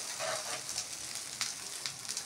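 A paratha made with bottle gourd sizzles in oil on a hot tawa, giving a close, steady crackling hiss with small pops.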